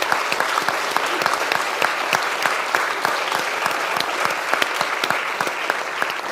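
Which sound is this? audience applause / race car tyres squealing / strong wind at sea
audience applause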